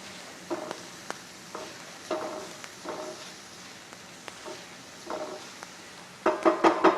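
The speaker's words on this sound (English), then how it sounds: "we're going to saute this for about a minute or 2 just to get a little bit of color on our onions and" Onions and garlic sauté in a pan for a shiitake tomato sauce: a quiet, steady sizzle broken by soft stirring scrapes, ending in a louder cluster of crackling bursts.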